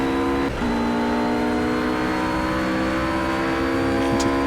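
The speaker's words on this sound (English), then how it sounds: "Going through the gears again on the power to go over that first bump." Ruf GT3 race car in Project Cars climbing through its gears under power, a loud, steady engine drone with a brief dip at a shift before the pitch settles and holds, alone without talk.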